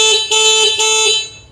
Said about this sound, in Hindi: हॉर्न भी आपको चेक करवा देते हैं